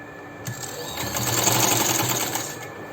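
Sewing machine stitching the waistband of elastic waist pants, a loud, close, steady motor whir with rapid needle clatter that speeds up and runs for a few seconds before slowing.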